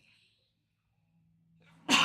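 One sharp, loud sneeze bursts out at the very end, after near silence, during a pool match at a bar.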